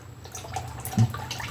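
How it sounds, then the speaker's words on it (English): Dirty engine oil pours out of a Nissan Altima during an oil change, a faint liquid dribble and drip over a low steady hum, with one slightly louder splash near the middle. "it's expected to have some dirty oil, but when it's pouring out like that"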